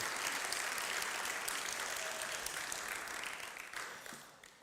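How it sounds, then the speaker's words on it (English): A large audience at a conference on Christian values applauds the parents, a dense continuous wash of clapping that holds steady before fading toward the end. "big round of applause to the parents as well"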